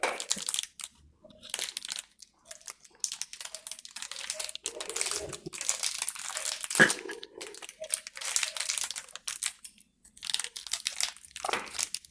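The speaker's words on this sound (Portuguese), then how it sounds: "Eu vou cortar certinho o pacotinho" A plastic chocolate wrapper being cut open, crinkling and crackling in irregular close-up bursts separated by short quiet gaps, with no talking over it.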